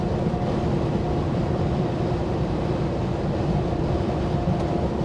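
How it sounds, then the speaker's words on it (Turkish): Steady, loud wind roar and rumble throughout, constant and unbroken, as air rushes past a moving Scania truck. "Çok rüzgar sesi geliyor be."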